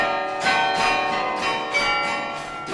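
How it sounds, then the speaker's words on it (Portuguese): Church carillon of 47 bells, played through steel cables and levers: several bright bell strikes ring out in a loose rhythm, each leaving a long shimmering resonance that overlaps the next, loud and fairly near. "O carrilhão é formado de 47 sinos, né?"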